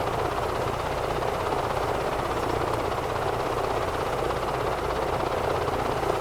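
EC-135 helicopter in Microsoft Flight Simulator 2024 holding full left pedal, giving a steady, dense rotor and turbine drone that stays even and fairly loud the whole time with no talk over it.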